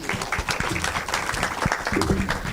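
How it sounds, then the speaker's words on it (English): An audience at a 2025 accelerator and incubator graduation ceremony breaks into a dense round of applause, many hands clapping steadily and fairly close, with a little murmur underneath. "A round of applause to Mwihaki"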